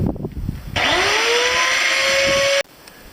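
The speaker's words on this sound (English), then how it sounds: "let the grinder cool down, getting a bit hot" An angle grinder bites into the hard rubber of a 26x4 fatbike tyre, a loud steady whine with a rising pitch that holds for about two seconds and then cuts off abruptly, close up and alone.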